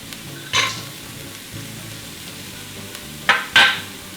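Bell peppers sizzle steadily in a pan while crushed walnuts are tipped in, giving a few sharp bursts of louder crackle and a brief stir, close by with no talk.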